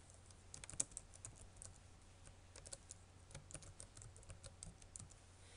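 Quiet, steady typing on a computer keyboard as a project name is entered, with soft, irregular key clicks and one sharper keystroke near the start.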